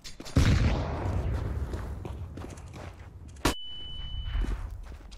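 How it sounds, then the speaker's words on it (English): In Counter-Strike: Global Offensive, a thrown grenade bursts in a loud close explosion at the start, followed by footsteps and rumble, then a second sharp blast with a lingering ringing tone. "I'm throwing a grenade"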